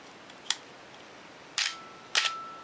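A Canon AE-1 film camera fires its shutter curtains at a slow speed, producing three crisp close clicks, a lone snap followed by a pair of louder clacks about half a second apart, in a quiet room.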